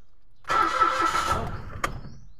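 An automatic Mitsubishi Mirage's engine cranks for about a second but fails to catch, then drops off, ending with a single sharp click. The sound is close and fairly loud.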